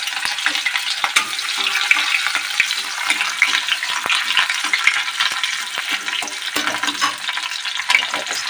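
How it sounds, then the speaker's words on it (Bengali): Chopped green chillies sizzle in hot mustard oil in a kadai, making a bright, steady crackling hiss with a few sharp pops close by and no talking. "আমরা এতে কাঁচা লঙ্কা কুচি দিয়ে দেবো।"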